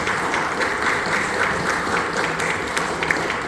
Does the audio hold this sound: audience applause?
yes